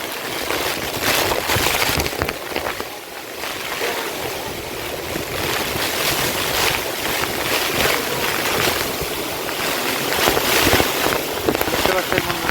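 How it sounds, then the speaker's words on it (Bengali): Cyclone Remal's storm winds in Bengal, heard as a loud, continuous roar and gusty buffeting against the microphone, rising and falling over several seconds. "এখন বিরাট ঝড় হচ্ছে, পুরো জমিতে জল বেঁধে গেছে।"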